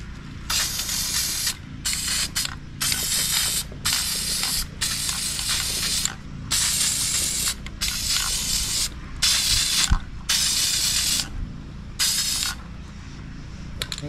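Clear coat sprays from an aerosol can in repeated hissing bursts of one to two seconds, separated by short pauses, close and fairly loud, with faint clicks of the nozzle between them.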